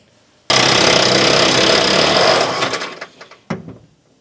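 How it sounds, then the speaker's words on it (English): An impact wrench drives a 7/8 body mount bolt from above on a 1980-96 Ford Bronco: a loud, close two-second burst of rattling hammering that trails off into scattered clatter, then one short sharp burst. "Going to put a 7/8 wrench on this, and then I'll have them hit it with an impact from up top."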